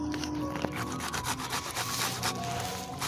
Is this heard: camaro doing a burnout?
no